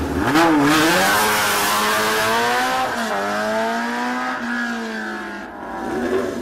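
Race car number 8, a Duquesne VG1, launching up a hill climb course at Arques-la-Bataille, its engine revving hard and loud close by, pitch climbing steadily through the gears with a brief dip before surging again.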